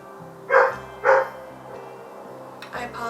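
A puppy barks indoors: two sharp, loud yaps close together near the start, a quiet gap, then a softer bark and whimpering toward the end.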